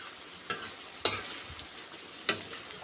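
Meat cooks in a pan with a faint low sizzle, broken by three sharp scrapes and clatters of a stirring utensil against the metal.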